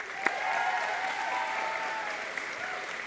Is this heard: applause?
yes